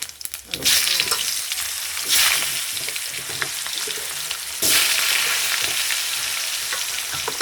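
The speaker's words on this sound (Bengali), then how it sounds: "এবার জিরে তেজপাতা ফোড়ন দেবো" Cumin seeds and bay leaf crackle and sizzle in hot oil after fish has been fried, a loud bright hiss that surges at the start, midway and again later with small stirring clicks.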